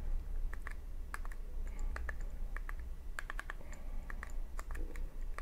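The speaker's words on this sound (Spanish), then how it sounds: "Ahí le pongo mi contraseña," Password being typed on a computer keyboard to log in to a Netflix profile, a quick irregular run of close key clicks over a low background hum.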